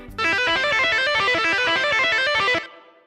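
An electric guitar plays a fast, driving rock phrase of rapid distorted notes, loud and close, for about two and a half seconds before ringing out and fading.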